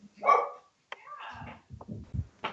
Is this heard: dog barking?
yes